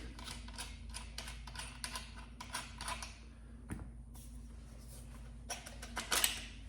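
A Hatsan Escort pump shotgun is pulled apart by hand, giving a scattered series of faint mechanical clicks, ticks and metallic snaps at an irregular pace against a quiet room hum.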